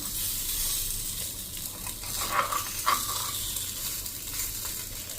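Oil-free farali bhajiya and appam roast in an appam pan with a soft, continuous sizzle, broken by a couple of brief scraping clinks near the middle as they are turned.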